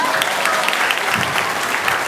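A stand-up comedy crowd breaks into dense, loud applause, a continuous close wash of clapping that holds steady for about two seconds.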